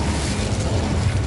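The Incendio fire spell in Hogwarts Legacy makes a dense, steady roaring whoosh of flame, loud and close, with a rattling crackle throughout the short burst and no speech.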